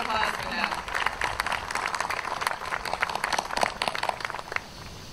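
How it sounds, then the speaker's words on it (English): A crowd applauds at a Navy change of command and retirement ceremony, many hands clapping in a dense, continuous patter that holds steady throughout, with voices mixed in. "Another round of applause for them"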